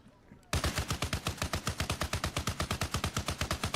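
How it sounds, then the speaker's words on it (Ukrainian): Rapid automatic gunfire in the video game Arma Reforger, loud and close, rattling off in a fast, steady stream of shots after a brief quiet start. "по нас стріляють, по нас стріляють"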